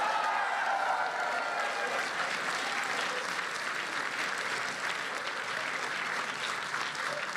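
Sustained applause from a large crowd at PAX East 2020, a dense, even clapping that holds steady throughout.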